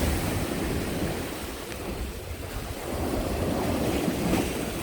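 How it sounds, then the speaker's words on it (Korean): Ocean surf on a rocky fishing point rolls and swells with a broad, steady wash, growing slightly louder toward the end as the waves pick up, mixed with some wind rumble. "파도가 갑자기 조금 살아나네요"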